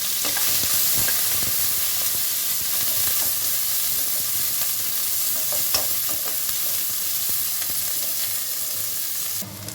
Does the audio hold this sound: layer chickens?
no